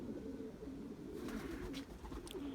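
Racing pigeon, a strong, tight, medium-sized bird, cooing in low repeated throaty pulses that run through the clip at a quiet, close level, with no talk.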